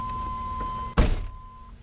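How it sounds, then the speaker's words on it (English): A van's door slams shut with a single loud, close thunk, while a steady electronic tone and the low hum of the running van continue around it. "let me close this door."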